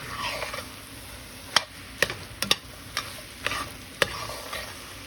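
A spoon stirs flour cooking in a pot for chicken and corn chowder, giving a steady sizzle broken by sharp, irregular clinks against the pot, close up and with no talking.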